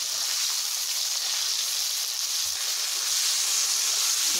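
Small prawns sizzling in hot oil, mixed with pumpkin, a steady close hiss of frying that holds evenly throughout with no pauses.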